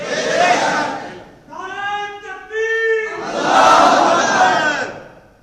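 A large crowd at a Friday sermon roars a slogan in unison, two loud swelling shouts separated by a brief sustained tonal voice, close and reverberant.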